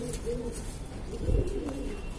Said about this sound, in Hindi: ये है भाई अपना नफ्ता कबूतर